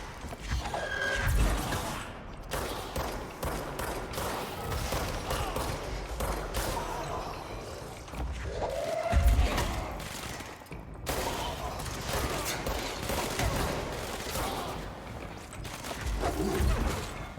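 Sniper gunfire in a video game, scattered shots and clattering mechanical impacts over a steady rumble of game ambience, with a heavier burst near the middle and some voice chatter underneath.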